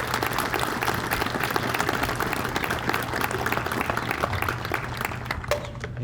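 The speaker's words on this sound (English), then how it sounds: "Can we please give another round of applause for those wonderful words?" Audience applause at a Pearl Harbor ceremony with the Grove City High School Band, a steady, dense round of clapping filling the whole stretch at even loudness, with a low constant hum beneath it.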